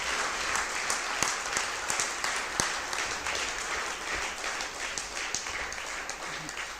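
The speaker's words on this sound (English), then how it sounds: "both your hands together, to give a big round of applause" An audience at a 1991 college class reunion gives a steady round of applause, dense clapping with a few sharper individual claps standing out throughout.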